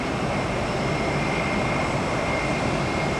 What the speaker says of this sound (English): Delta One service, A330 to Amsterdam, the Netherlands, Schiphol Airport